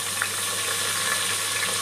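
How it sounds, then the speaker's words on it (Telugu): Onions, mint and green chillies fry in oil with pounded masala for a prawn curry, giving a steady, close hiss of sizzling that holds even throughout. "ఉల్లిపాయలు, పుదీనా, పచ్చిమిర్చి మనకి ఇలా బ్రౌన్ కలర్ వచ్చే వరకు ఫ్రై చేసుకోవాలి"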